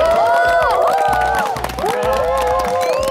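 A studio audience claps and cheers to welcome a guest at a live Among Us game-show event, a dense sustained burst of applause and whoops over a bed of music.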